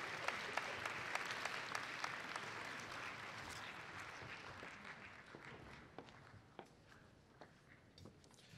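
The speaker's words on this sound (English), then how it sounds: "So can we have a round of applause for whoever's on the stage?" Sustained applause from an audience at a youth conference, loud and dense at first, then thinning toward scattered claps near the end, with no voices over it.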